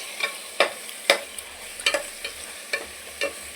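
Biryani ingredients are sautéed in hot, spattering oil, with a spoon stirring and scraping the pan in separate strokes over a soft sizzle, close by and with no voices.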